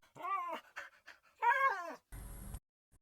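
A dog whimpers in two drawn-out, wavering whining cries, fairly close, followed by a short burst of hissy noise.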